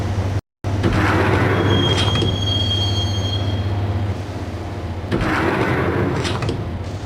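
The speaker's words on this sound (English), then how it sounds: "the train doors had already shut behind me, and I was in for the ride" A subway train rides along in the Max Payne video game, giving a steady loud rumble with wheels squealing in high metallic tones and a brief dropout near the start.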